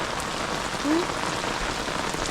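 Rain patters steadily on hard surfaces outside a house where water stands and flows, a dense even hiss with no voices.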